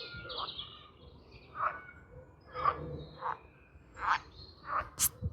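Frogs call from a Dortmund park in separate bursts, roughly one every half second to a second, fairly close and clear over a soft background with no talking.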